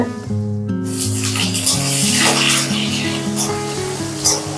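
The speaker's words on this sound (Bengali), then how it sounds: "আলুটাকে একটু ভেজে নেওয়া হচ্ছে" Potatoes fry in hot oil with panch phoron and a whole dried red chili for a pumpkin-stem chorchori, giving a steady broad sizzle under sustained tonal music throughout.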